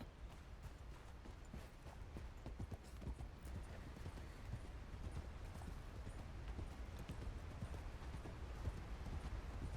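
Horse hooves clip-clop in a steady, even rhythm over a constant low rumble, fairly close and unbroken throughout.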